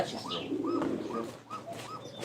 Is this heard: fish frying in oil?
no